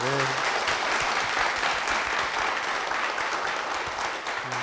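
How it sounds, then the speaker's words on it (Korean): A church congregation claps in warm, continuous applause, full and steady for several seconds, with a voice speaking briefly at the start and again as it ends. "우리 박수 부탁드리겠습니다"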